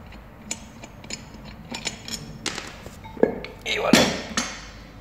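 Metallic clicks and ratcheting knocks from loosening nuts during a wheel bearing replacement, a scatter of sharp taps building to a denser burst of clatter near the end, close and moderately loud with low background noise.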